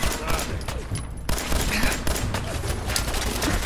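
Dense, continuous gunfire in Fallout 4, a loud crackling volley of rapid shots close at hand with no break.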